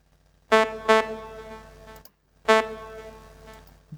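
Basic synth pluck patch from the Serum software synthesizer, three bright, tonal plucked notes with quick attacks and short decays, clean and isolated against near silence.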